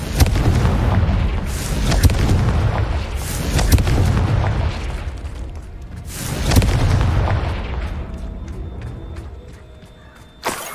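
A Confringo spell exploding in Hogwarts Legacy, a loud, deep booming blast with rumbling follow-up bursts that swell and fade over several seconds before trailing off.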